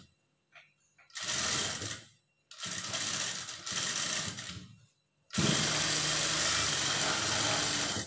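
Sewing machine stitching the lining seam of a blouse, running in three bursts: two short runs separated by pauses, then a longer continuous whirring stretch, close and fairly loud.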